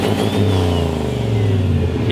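A turbocharged LS-powered station wagon engine revs steadily and loudly up close, a deep continuous roar with rising and falling pitch and no talking over it.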